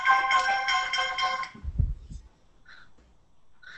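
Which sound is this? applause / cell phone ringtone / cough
cell phone ringtone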